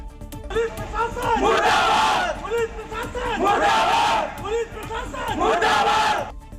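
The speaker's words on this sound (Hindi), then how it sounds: "आरोपी पर एक्शन की मांग को लेकर नारेबाजी की।" A crowd outside a hospital chants slogans demanding action against an accused man, loud rhythmic shouting rising and falling in repeated waves.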